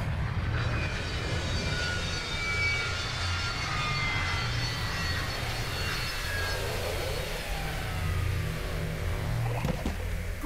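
An aircraft landing in the video game Psychonauts 2, a steady roaring engine drone with rushing wind, sustained and fairly loud with no talking.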